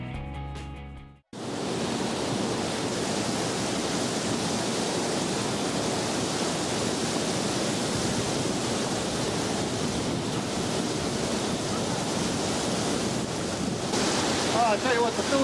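Lobodil waterfall in the Philippines pours in a dense, unbroken roar of rushing water, loud and close, steady for the whole stretch after a brief opening of other sound.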